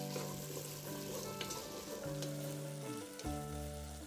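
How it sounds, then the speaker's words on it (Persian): Onion and potato sautéing in a pan for an Istanbuli polow rice dish, a steady close sizzle with occasional stirring scrapes and no talk. "و سیب زمینی هم حدود 1-2 دقیقه تفتش میدم."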